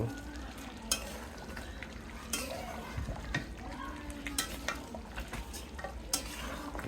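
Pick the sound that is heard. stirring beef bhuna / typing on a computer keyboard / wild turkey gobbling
stirring beef bhuna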